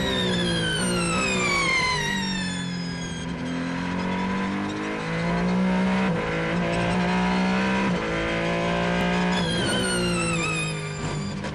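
Aston Martin race car on a qualifying lap at the Bahrain 8 Hours endurance race, its engine loud and close, revs climbing and dropping through gear changes as it powers along, with no talking heard.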